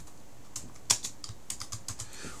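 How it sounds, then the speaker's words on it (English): Keys on a computer keyboard are tapped in a quick, uneven run of soft clicks, close and fairly quiet, with no voice over them, while text is entered in a CAD sketch. "We can just simply start typing the words."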